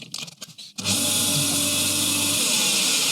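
A lathe faces the end of a freshly cut small workpiece, a steady bright whirring hiss that starts abruptly after brief rumbling and holds evenly for a few seconds.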